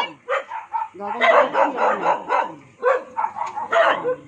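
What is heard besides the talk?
dog barking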